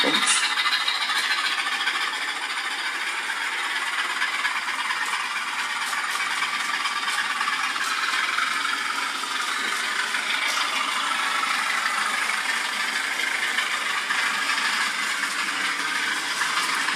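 A Hornby model train running round a layout, a steady close whirring motor and rail rattle with a high-pitched squeal continuing unbroken for the whole stretch.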